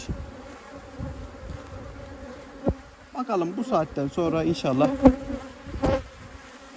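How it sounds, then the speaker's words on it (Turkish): Carniolan honey bees buzz around an apiary, a continuous insect drone with nearer bees passing by, while someone speaks briefly over the hum. "bu arı kendi yoluna gider"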